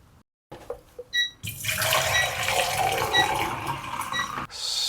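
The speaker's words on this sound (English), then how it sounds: "And I'll agitate 5 seconds every minute." A black-and-white film developing tank holding Kentmere Pan 200 is agitated by hand. A few faint clicks come first, then several seconds of continuous, fairly loud liquid sloshing inside the tank.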